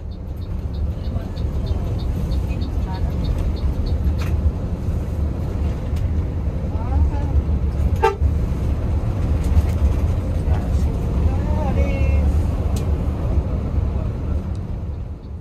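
A Sumber Jaya intercity bus runs between Palembang and Banjar, passing an airport junction under the Pancasila flyover: a steady low engine and road rumble with wind buffeting and faint rattles, and a voice talking at times.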